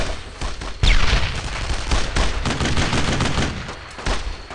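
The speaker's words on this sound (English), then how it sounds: "Incoming fire!" Heavy gunfire in a World War II combat setting, with dense overlapping rifle and machine-gun bursts and loud sharp reports crackling continuously, close and far shots mixing into a sustained battle din.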